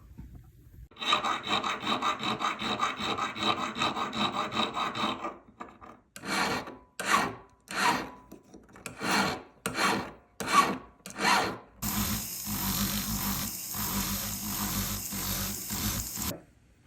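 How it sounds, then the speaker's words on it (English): A hand tool carves and files the inside of a platinum men's wedding band with a steady rasp, then rhythmic back-and-forth strokes, then a continuous harsher grinding pass, loud and close. "we're going to be carving some of the interior and forming that to make it more of a contour shape"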